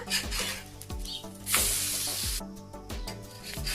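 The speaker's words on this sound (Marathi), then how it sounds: "तेल गरम होते ना त्याच्यानं झोंमते आता ह्या फिरवतो पराठा" A spring onion paratha frying in hot oil on a pan gives a steady, loud sizzle with bursts of spattering, and there are clattering and scraping sounds as the flatbread is turned.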